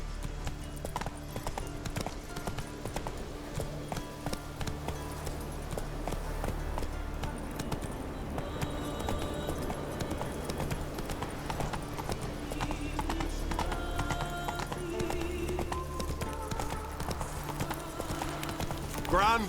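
Hooves of Roach, the horse in The Witcher 3, clip-clop steadily throughout on a road, with occasional whinnies, ambient game music and voices talking over the steps.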